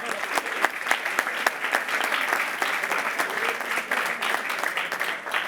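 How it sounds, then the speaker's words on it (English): Bachelor graduates clap for themselves at their July 2019 graduation ceremony, a busy patter of many hands with distinct sharp claps standing out, moderately loud and steady throughout. "Give yourselves a round of applause."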